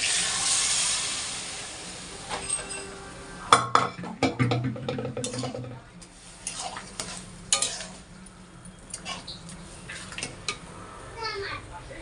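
Spiced peas frying and being stirred in a pan for ghugni, a steady sizzle with clattering scrapes of a spatula against the pan and a voice briefly heard in the background.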